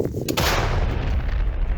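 A single deep, powerful M777 howitzer blast with a heavy low rumble that rolls on and lingers, loud and close.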